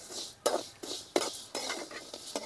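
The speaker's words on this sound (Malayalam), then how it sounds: "ഇത് നന്നായിട്ട് ഇളക്കി ഇളക്കി വറുക്കാൻ ചെറിയ തീ വെച്ചിട്ട്" Raw vermicelli roasting in a hot pan over a low flame, stirred with a spoon in a series of quiet, rhythmic scraping strokes over a soft sizzle.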